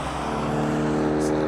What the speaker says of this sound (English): I'm already getting annoyed by the cars.